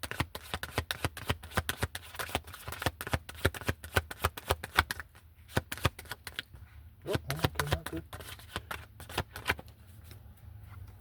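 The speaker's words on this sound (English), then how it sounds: "So I'm going to shuffle one more time." Tarot cards being shuffled by hand, a rapid run of crisp riffling flutters close up, pausing midway before a softer burst of card handling resumes.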